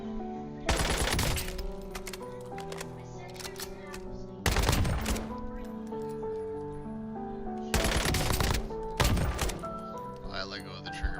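Gunfire from a dot-sight weapon in a video game rings out in three loud, sharp bursts of rapid shots, separated by pauses filled with faint echoing tails.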